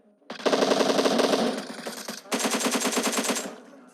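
Rapid automatic gunfire in the PUBG battle royale game, two loud sustained bursts of closely spaced shots, the second sharper and more rhythmic, with no talk over it.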